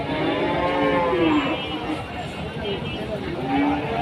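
Cattle moo repeatedly at the Rustampur cattle market in Rajshahi, loud and close, several drawn-out calls overlapping with crowd murmur and voices.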